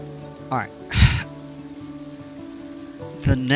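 Steady rain patters across a theme park in Planet Coaster 2, a constant soft hiss beneath brief bursts of talk and short musical swells.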